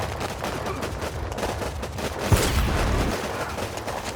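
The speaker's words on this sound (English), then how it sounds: "these airstrikes are killing us" Airstrikes and gunfire in the war game WarPips, a continuous rattle of distant small-arms fire with a louder explosive thump near the middle, sustained throughout with no voices.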